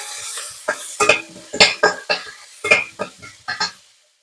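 Mustard seeds, cumin, curry leaves, green chilli and finely chopped onion frying in oil for Andhra tomato pappu, heard as a run of sharp, evenly spaced stirring scrapes and clinks of a utensil on the pan over a soft sizzle.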